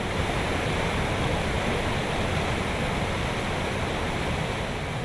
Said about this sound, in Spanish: El primer encuentro es con la Cascada Molinuco.